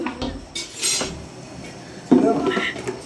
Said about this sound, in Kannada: ಇವರೇ ಪಾತ್ರೆ ತೊಳೆಯೋರು.